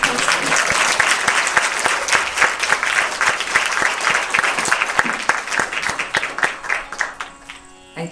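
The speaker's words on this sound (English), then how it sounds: "Can we have one more round of applause?" Audience applause after a Kathak Indian dance performance, loud sustained clapping from a full room that fades toward the end.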